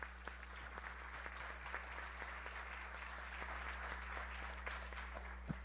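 An audience claps steadily through the whole stretch after a panel speaker at a tourism investment forum, a dense, even patter over a low steady hum, with no talking.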